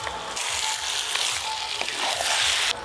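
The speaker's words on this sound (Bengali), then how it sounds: "এবার তো মাংস ভালো করে কষবো" Spiced desi chicken meat fries in a pan, a dense continuous sizzle up close with occasional stirring scrapes, fairly loud and steady before cutting off abruptly near the end.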